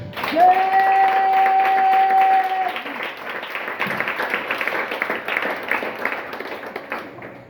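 A church congregation bursts into loud, sustained applause and keeps clapping. A single held tone rings briefly at the start, and the clapping trails into scattered, softer claps.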